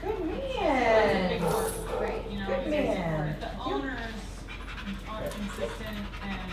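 Dog panting close by near another dog during a reactive-dog leash training session, rhythmic breathy panting mixed with soft whimpery vocal sounds, under a steady background hum.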